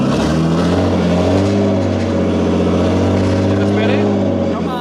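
A rough Nissan R32 Skyline, running again after four years parked, pulls away in first gear: a loud, steady engine drone with a low harmonic hum that holds level throughout, close to the microphone.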